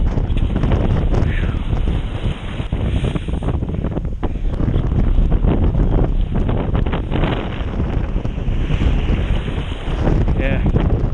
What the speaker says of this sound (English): wind just all over the place